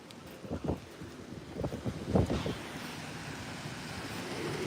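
Strong hurricane wind from Hurricane Francine in Louisiana roars and buffets the microphone in gusts, with a dense rushing noise that swells and stays loud throughout.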